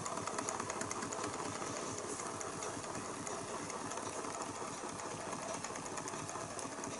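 Small Banggood Stirling engine with a vertical crankshaft and horizontal flywheel running steadily, a faint, quick, even mechanical chatter and whir that continues without change and without speech.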